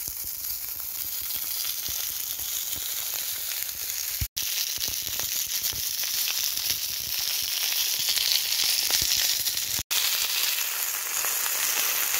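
Minted lamb chops sizzle and spit steadily in a pan over a campfire in a rainy Scottish forest, a loud continuous frying hiss with crackles, broken by two brief cuts, no talk.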